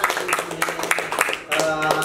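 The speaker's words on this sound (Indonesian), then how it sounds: "aplaus untuk kelompok 5" A group of people at SMKN 23 Jakarta clap for group 5 in a short, scattered burst of nearby claps, mixed with voices talking over and around the applause.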